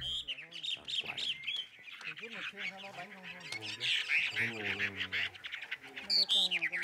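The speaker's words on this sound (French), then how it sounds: "Pour que deux oiseaux se battent, l'oiseleur les met en présence de femelles dans des cages voisines." Caged fighting birds squawk and honk at a private bird fight in Vietnam, kept beside females in neighbouring cages; loud, continuous harsh calls overlap with a voice talking throughout.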